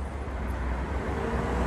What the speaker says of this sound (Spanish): Ahí viene una guagua, un minibús con muchos pasajeros.